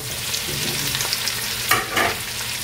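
Meat hits a hot pan with onions and fries in a loud, steady sizzle, with a few stirring scrapes near the end, close up.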